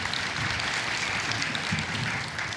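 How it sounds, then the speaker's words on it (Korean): Church congregation gives a short burst of dense, even clapping, heard at moderate distance with no voices over it. "다시 한번 큰 박수로"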